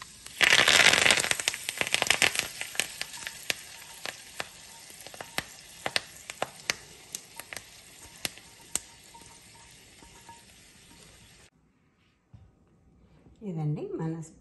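Dry red chillies hit hot oil for a tempering while making pesara pappu pachadi, setting off a loud burst of sizzling crackle that fades into a steady hiss with scattered pops, then stops before a voice speaks.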